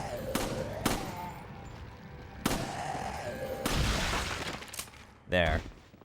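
Shotgun blasts in Resident Evil 4 during a round against shield enemies, several sharp loud reports spaced a second or more apart amid game noise, with a person talking over them.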